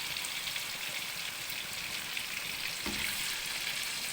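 Prawns fry in a hot pan with a steady, even sizzle, a dense crackling hiss that holds at the same level throughout with no one talking.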